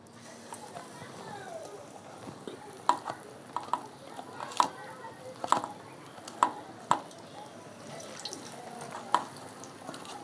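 Chicken pieces being worked by hand into pakora batter, giving soft wet squelching and stirring with a scattering of sharper clicks and taps spread across the stretch. A quiet voice sits in the background.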